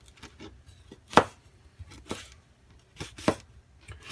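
Cooked, oven-baked bacon chopped with a knife on a board, a handful of sparse, irregular cuts with soft crunchy thuds, close and fairly quiet.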